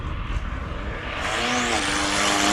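A diesel Fiat Grande Punto racing up a hill climb course in Cape Town, its engine note rising and swelling in pitch as it accelerates past, loud and continuous over a rumbling background.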